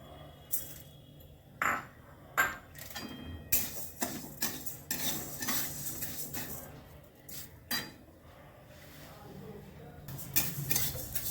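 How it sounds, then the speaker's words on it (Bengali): Moong dal lightly frying in mustard oil while a utensil stirs it around the pan, giving repeated metallic scrapes and clinks in an irregular rhythm over a faint sizzle. "প্রথমেই আমি মুগ ডালটা ভেজে নিচ্ছি"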